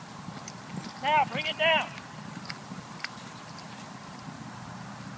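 A ridden horse moving out in an arena during a training session, soft hoof clip-clops under steady outdoor background noise, with a trainer speaking briefly.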